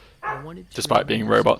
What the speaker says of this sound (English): Apologies for my dog barking in the background